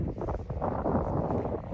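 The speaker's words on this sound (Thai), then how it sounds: "ลมหนาว พัดว้อยๆนี่แหละของแท้" Cold wind sweeps across a snowy landscape, roaring steadily into the microphone as continuous buffeting rumble with no voices.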